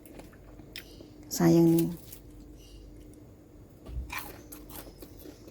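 Crunchy fried cireng, a crispy tapioca snack, is bitten after a dip in sambal. One sharp crackling crunch comes up close, then a softer chewing sound follows. A short spoken remark is also heard.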